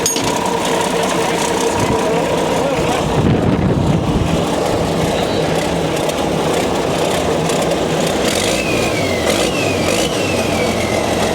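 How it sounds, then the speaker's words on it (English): Used bulldozer's diesel engine running with its turbo spinning, a loud steady mechanical drone with a rising whine near the end, heard close and without talk. "That turbo's spinning."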